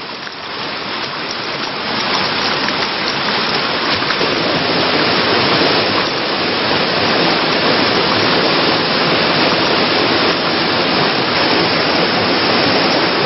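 The Daewonsa valley stream on Jirisan, Korea, a clear mountain stream, rushes with a dense, steady roar of flowing water. It stays continuous and fairly loud, with no voices.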